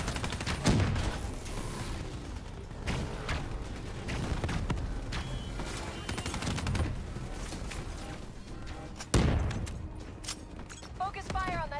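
Black Ops 3 gunfire comes in dense, rapid bursts with scattered single shots and mechanical clatter. A player talks over it now and then.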